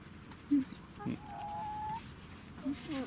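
A few short clucks from chickens come through amid outdoor background noise, with a brief sustained bird-like call in the middle.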